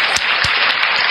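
Studio audience applause on an Indonesian talk show, a dense steady wash of clapping filling the whole moment with a few sharper claps standing out, loud and close.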